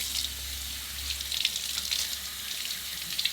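Tap water runs steadily over celery being rinsed in a sink, a close, even hiss of flowing water with light splashes.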